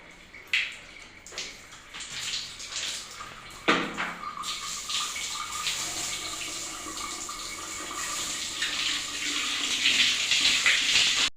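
Running water from a tap splashes steadily while hands and face are washed, with a few knocks and splashes at the start, then a continuous close rush that grows slightly louder toward the end.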